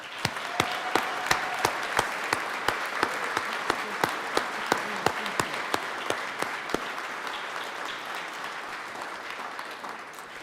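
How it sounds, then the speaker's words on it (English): Applause fills the Colorado Senate chamber after a leadership tribute, many hands clapping steadily at a moderate distance with sharper individual claps standing out, sustained for about ten seconds and fading slightly toward the end. "Let's give him one more round of applause."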